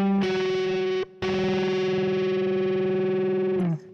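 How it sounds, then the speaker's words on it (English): A distorted electric guitar in a solo holds a bent note up to the seventh of G, held in tune without vibrato. The note is loud and sustained, breaks off briefly, then rings again and slides down at the end. "This bend is actually going to the 7 of the G. He's bending to this note here."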